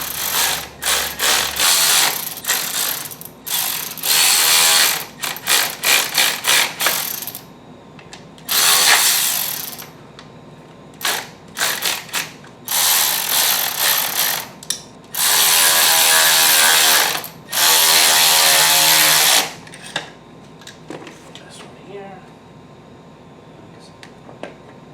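A power tool whirs and ratchets in repeated bursts, loud and close, while a new cooling fan is tightened into a Pontiac G8, with pauses between the runs.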